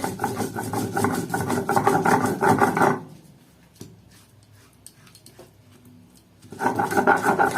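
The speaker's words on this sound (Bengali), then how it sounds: "এবার আমি এইটা বেটে নেব, লঙ্কাটা আর একটু রসুন।" Chili and garlic are ground by hand on a grinding stone. The stone rasps in quick rhythmic scraping strokes, first loud and continuous, then a quiet pause with faint clicks, then the rapid grinding starts again.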